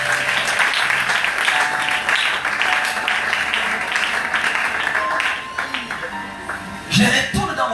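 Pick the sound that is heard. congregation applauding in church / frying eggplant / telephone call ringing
congregation applauding in church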